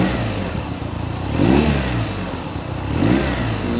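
A 2021 BMW R nineT Scrambler with a boxer twin rumbles close by at idle, with two short throttle blips rising in pitch and settling back.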